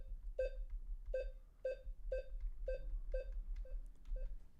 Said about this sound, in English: You guys can hear those beeps, I'm guessing.